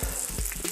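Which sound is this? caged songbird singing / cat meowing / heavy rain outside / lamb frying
lamb frying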